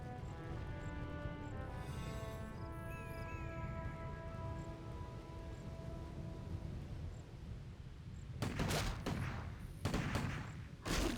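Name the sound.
rifle gunfire in video game Warcraft 3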